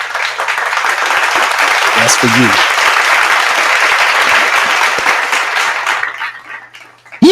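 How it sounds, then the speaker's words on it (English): A dense applause sound effect of many hands clapping fills most of the span at an even, steady level, then fades. Someone speaks briefly at the end. "a hand clap to all of the responsible, loving, and dedicated mothers out there"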